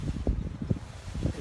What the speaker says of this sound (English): It's really windy already.